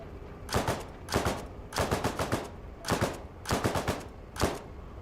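Repeated short bursts of automatic gunfire from AI-controlled guns in the military video game Arma Reforger, six separate rattling volleys spread evenly with brief gaps between them, moderately loud and with no talking over them.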